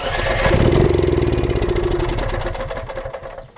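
An Onan 2800 RV generator engine cranks and catches, then runs with a rough, pulsing idle nearby, its loudness slowly easing off.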